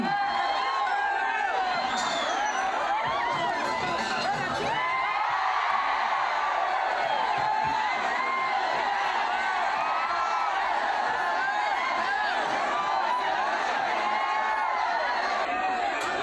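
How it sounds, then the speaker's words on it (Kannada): A dense crowd of young fans at a public event in Kalaburagi for actress Rachita Ram, cheering, whooping and shouting continuously throughout, loud and close, with a steady roar of many voices. "ಜೋರಾದ ಚಪ್ಪಾಳೆ ಬರ್ಬೇಕು"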